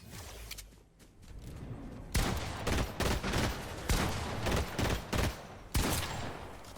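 Burst rifle gunfire in the Fortnite video game, several rapid multi-shot bursts following a quieter opening, sharp and loud, with no voices.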